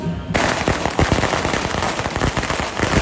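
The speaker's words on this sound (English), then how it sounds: "The firecracker crew prepares firecrackers and casts them to greet the gods and the worshippers." Firecrackers set off by a crew at a temple procession, a loud, rapid crackling barrage that bursts in suddenly and keeps popping densely and unevenly throughout.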